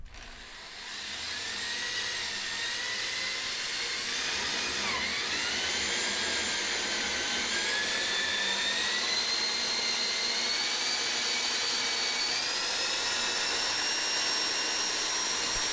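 A hole saw just over an inch in diameter drilling through plywood, a loud, steady whining drone that runs continuously with a slowly shifting pitch, close and without talk.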